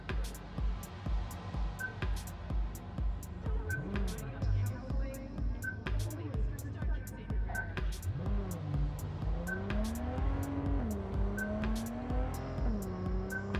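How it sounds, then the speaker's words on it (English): A car driven in Cyberpunk 2077: a continuous engine hum rises and falls in pitch as it shifts and revs, with rapid regular ticking clicks and occasional short beeps layered over it, heard close and steady throughout. "This car is ridiculously fun to drive."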